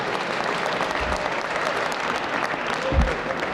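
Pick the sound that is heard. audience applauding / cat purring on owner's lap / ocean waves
audience applauding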